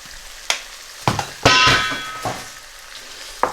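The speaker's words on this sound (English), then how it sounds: "give it a gentle stir" Samosa potato masala being stirred in a pan gives scattered scrapes and clatters of a spoon against the pan, with a soft sizzle beneath and a louder, longer scrape midway.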